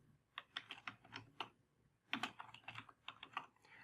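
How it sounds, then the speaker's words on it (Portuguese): Keys on a computer keyboard tapped out in two quick bursts while a customer name is entered into a form field, with a brief pause between the runs of clicks and no talking. "Vou digitar aqui o nome."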